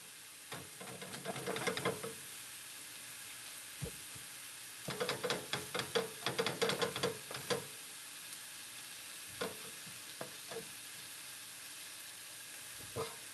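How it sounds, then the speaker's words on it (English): Broccoli rabe sautéing in a pan, soft continuous sizzle broken by bursts of stirring and utensil clatter in two main stretches, then a few scattered taps; no talking. "Sauteing broccoli rabe."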